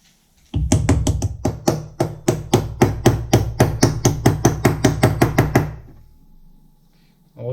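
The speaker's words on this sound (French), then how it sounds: "On prend maintenant le bloc d'acier ici et on frappe dessus jusqu'à ce qu'il soit entièrement dessus." Repeated heavy hammer blows strike a steel block to drive a part into place on a mini excavator reducer being restored. About twenty sharp, evenly paced metallic knocks land close and loud over five seconds, then stop.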